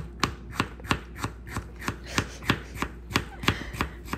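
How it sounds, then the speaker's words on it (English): Knife slicing an onion on a cutting board for homemade Filipino butter shrimp, about a dozen crisp, evenly spaced chops in a steady rhythm, close and clear with no talking. "Just slice the onion."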